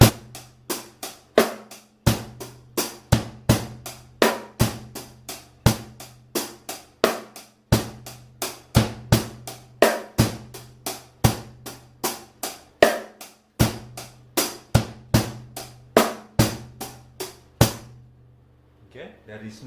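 Drum kit playing a 16-beat practice pattern with the kick landing right after the snare on the fourth beat: steady, evenly spaced hits repeating close and loud for the whole stretch, fading to a faint sound at the end.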